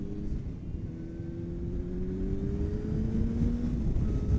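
A Yamaha R6 motorcycle engine pulls under acceleration, a steady low rumble with a rising tone climbing through the gear, continuous and fairly loud with wind noise and no talk.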